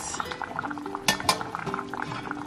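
Rice boiling in a pot and being stirred, a close steady bubbling with soft clinks and scrapes of a utensil against the pot, including a couple of sharper knocks, and no talk.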